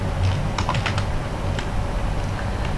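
Quick keyboard typing while an example sentence is written out, a short burst of clustered keystrokes early on and a few scattered taps after, heard over a steady hum of background noise.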